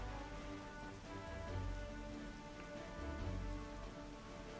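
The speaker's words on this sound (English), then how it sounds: "Is it raining again? Is there a cyclone?" Rain falls in Wind Waker HD, a steady, fairly soft wash of drops on a surface with a faint low rumble beneath, continuous and even throughout.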